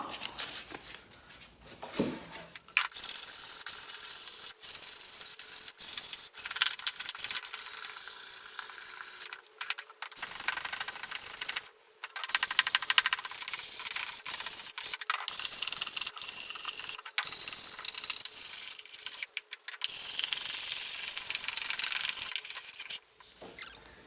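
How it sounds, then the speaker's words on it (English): Steady, raspy sanding against the wood of a console table, close and continuous for a long stretch, broken by a few brief pauses. "that's our sanding done"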